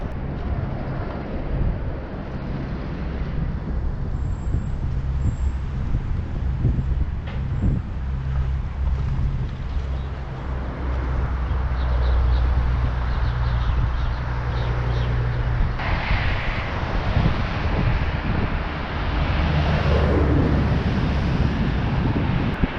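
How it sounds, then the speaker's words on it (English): Wind gusting across a microphone on a bridge over the river in Wuhan, China, a continuous loud rumbling buffet that swells partway through, with no talking. "The wind is blowing on my face"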